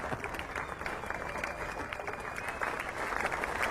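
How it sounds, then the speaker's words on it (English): A large cricket crowd applauds a departing batsman, Sachin Tendulkar, at the Nottingham Test between England and India; steady dense clapping fills the ground throughout, with a murmur of the crowd beneath. "Warm applause for Sachin Tendulkar."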